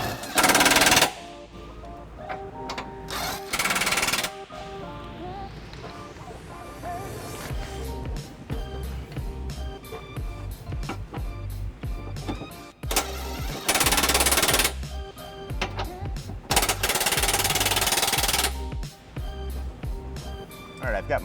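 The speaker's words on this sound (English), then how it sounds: "we're going to snug them up with the impact prior to giving them a final torquing with the torque wrench." Impact wrench snugging trailer hitch bolts on a 2017 Dodge Durango, with several loud sharp rattling bursts separated by quieter stretches where a person talks.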